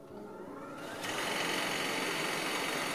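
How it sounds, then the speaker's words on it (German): A vacuum cleaner switches on in a workshop where decorative wood slices are being sawn, its motor ramping up over about a second into a loud, steady broadband roar that holds to the end with no talk. "Staubsauger an."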